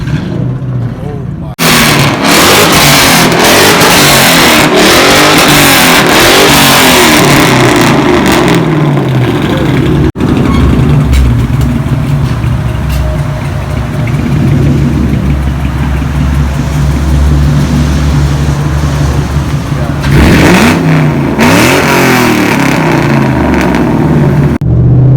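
A built 2002 Mustang GT V8 with a muffler delete rumbles loudly and continuously, its low idle breaking into bursts of revving and crackling, with voices talking over the engine throughout.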